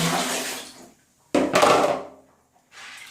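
Water sloshes and pours into a bowl while Lego pieces are washed, in two short splashy bursts split by a brief pause, close and fairly loud, with no talking.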